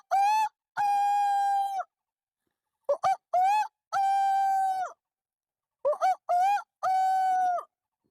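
A man imitates a rooster crowing at dawn with his voice alone, producing several loud, drawn-out crows in close succession, each broken into short rising bursts followed by a long held note.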